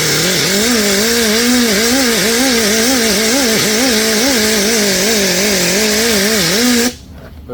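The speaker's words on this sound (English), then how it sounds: "So it's just a Scotch-Brite pad on my whizzer wheel." A whizzer wheel fitted with a Scotch-Brite pad buffs a rusty cylinder on a 400 Pontiac LeMans, giving a loud, close, wavering whine that rises and dips as pressure changes, then cuts off abruptly near the end.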